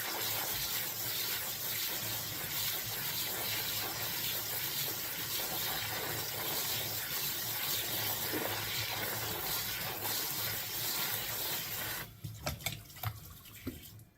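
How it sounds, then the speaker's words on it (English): A bag of cranberries rinsed in a kitchen sink under a running tap, a steady gushing spray of water for about twelve seconds that cuts off, followed by a few faint wet clicks and drips. "When you get a bag of cranberries like this, it's a good idea to go ahead and rinse them off really well."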